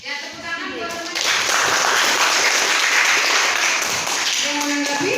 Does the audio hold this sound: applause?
yes